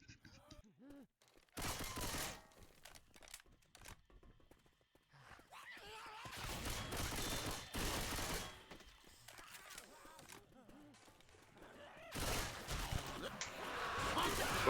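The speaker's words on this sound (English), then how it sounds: "Machine gun?" Bursts of machine gun fire in the zombie video game Left 4 Dead 2 come in several loud clusters separated by quieter gaps, mixed with other game sounds.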